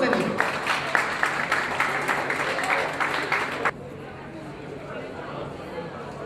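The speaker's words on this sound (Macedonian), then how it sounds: "Аплауз за нив." Audience applause for the Macedonian national basketball team at a send-off event, dense clapping with crowd noise for about four seconds before cutting off to quieter room ambience.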